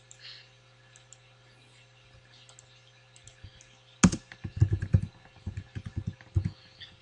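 Computer keyboard typing, a quick run of close clicks and taps arriving suddenly after a quiet stretch with a faint steady hum underneath.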